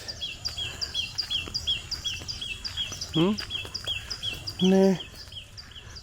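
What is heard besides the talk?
birds chirping and singing outdoors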